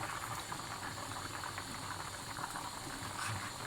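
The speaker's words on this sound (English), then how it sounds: "the curry has been cooking for about 5 minutes now on high heat with the water in it" Dhal gosht curry with meat and water boiling hard on high heat in a pot, giving a steady, dense bubbling and hissing that runs unbroken from start to end, with no voices.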